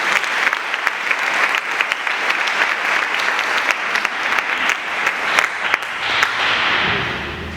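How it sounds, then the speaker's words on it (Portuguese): Steady, loud applause from a church congregation during a sermon, dense clapping sustained for several seconds with no talk over it. "Você pode aplaudir Jesus por isso?"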